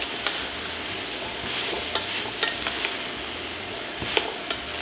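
Diced Yukon Gold potatoes being stirred into softened leeks in a stock pot, a steady low sizzle broken by a few scraping knocks of the spoon, close by with no talking.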